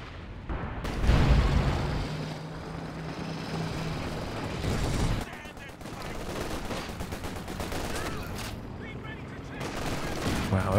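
Battle sounds in Company of Heroes 2, with a continuous roar of gunfire and explosions and a Nebelwerfer rocket artillery salvo amid it, while a commentator talks throughout.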